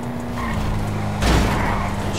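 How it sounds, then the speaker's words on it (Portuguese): A car slams into the player's vehicle in a GTA RP game set in a Rio de Janeiro favela complex, a sudden broadband crash bursting over a steady engine drone about halfway through, then the engine hum continuing. "bateu no meu carro"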